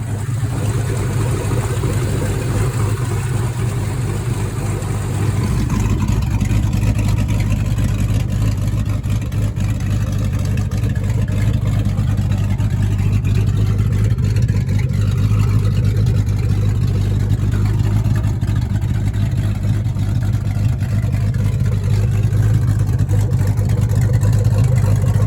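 A 1984 Chevrolet El Camino with a swapped 4.8 LS V8 is driving. Its engine drones loud and steady at close range for the whole stretch, with road noise mixed in and the note rising slightly after the first few seconds.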